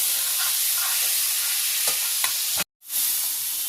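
Masala sizzling steadily in a pan after a small splash of water, with a loud continuous frying hiss, a few faint stirring taps and one brief break in the sound near the end.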